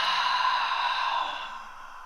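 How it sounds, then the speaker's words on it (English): A long, breathy exhale pushed through the back of the throat during a bodyweight hamstring workout, close and steady, gradually fading as the lungs empty. "Nice long exhale through the back of your throat."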